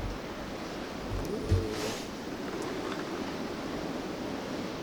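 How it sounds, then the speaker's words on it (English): A steady, low broadband rush of wind blows during a South Dakota blizzard. It stays faint and continuous, with a few soft gusts and buffets against the microphone. "It's still windy."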